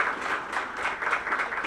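Audience applause at an evening history talk, a steady dense wash of clapping from a seated crowd welcoming a guest speaker, moderately loud and continuous with no voices over it.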